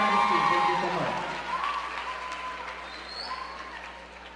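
A dance competition audience in Orlando claps for young peewee soloists; the applause fades under a presenter's amplified voice and scattered cheers.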